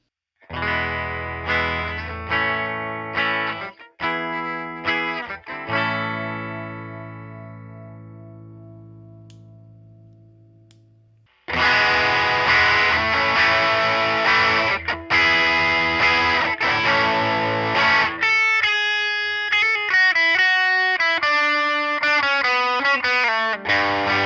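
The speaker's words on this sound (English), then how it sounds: "In order to help me demonstrate soft clipping distortion" An electric guitar plays clean plucked notes that ring out and fade, then a riff with warm, gritty soft-clipping overdrive distortion from an Ibanez Tube Screamer clone circuit on a breadboard, loud and sustained.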